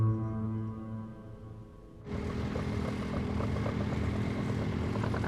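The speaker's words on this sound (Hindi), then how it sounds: "ये ट्रैक्टर 30 किलोमीटर की स्पीड से चल रहा है" A tractor runs at about 30 km/h. A steady, humming engine drone swells into a louder, continuous broadband rumble that holds to the end.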